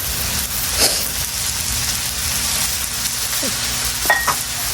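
Garlic sizzles and fries steadily in a pan for chicken fried rice, a continuous close crackle with a few brief louder pops and stirring scrapes, no voices.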